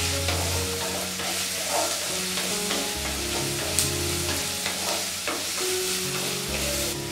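Small onions, ginger, garlic and curry leaves frying in a pan for a home-style mushroom masala. A loud, continuous sizzle runs throughout, broken by regular scraping strokes of stirring and no talking.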